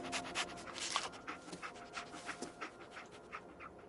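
Dogmeat, the dog companion in Fallout 4, pants in quick, rhythmic breathy bursts close to the listener, steady and moderately loud for several seconds with no voices over it.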